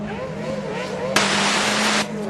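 Junior Formula 500 race car engines at Carina Speedway drone and rev with wavering pitch, then a burst of broadband noise flares for about a second as they accelerate together.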